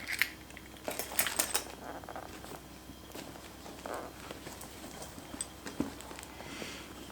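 Everyday keys on a keyring jingle and clink as they are handled, with several bright metallic rattles early on and lighter scattered clicks after, close and fairly soft, with no talk.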